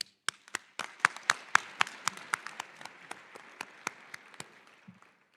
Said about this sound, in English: let's give them a round of applause, ladies and gentlemen.